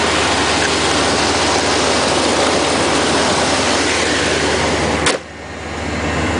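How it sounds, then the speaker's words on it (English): A cold 1975 Corvette engine idles steadily nearby with a dense, even rumble and hiss that ends abruptly in a thump, leaving a quieter hum. "it is a cold engine. So for it to be running clean like that is pretty good"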